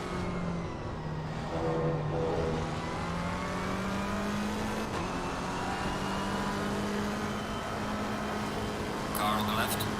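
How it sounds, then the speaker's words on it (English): A Ferrari GT race car in Assetto Corsa Competizione at Silverstone, its engine droning and shifting pitch steadily through the run, with another car's whine and voices talking over the sound throughout. "Oh, look at this Ferrari."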